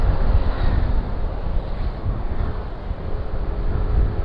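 Strong wind buffets the microphone continuously on Roxas Boulevard in Manila, producing a loud, gusting low roar with no other sounds standing out.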